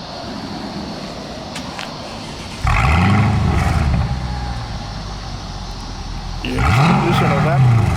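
A car engine idles, then two sharp revs rise and fall with a roar, the second after a short lull, close and loud.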